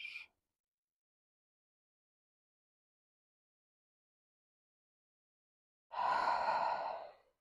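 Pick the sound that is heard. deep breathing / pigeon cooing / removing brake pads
deep breathing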